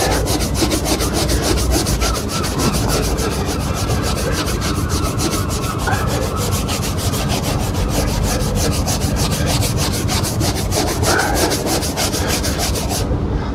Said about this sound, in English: Just keeping it rubbing it in.